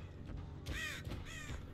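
Two harsh crow caws ring out in Dead by Daylight, separated by a short pause, standing out clearly over a low droning in-game ambience.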